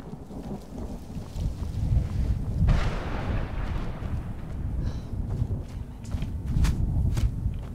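Shots and booming impacts in Skyrim, a loud rumbling burst near the middle with further scattered blasts and cracks over a steady noisy background, no talking.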